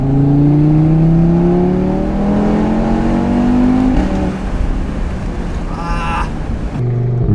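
Audi RS3 engine accelerating hard up through the revs with rising tones, then a sharp downshift blip with a quick rev flare near the end, loud and close, with a voice briefly heard.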